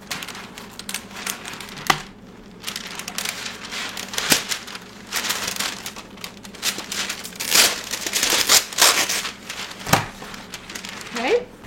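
Parchment paper crinkles and rustles as it is laid onto a cookie sheet, with irregular close crackles and soft thumps continuing under intermittent talking.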